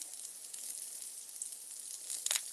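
Burger patties searing in a pan, a faint continuous hiss of sizzling fat with a brief louder crackle near the end, no voices.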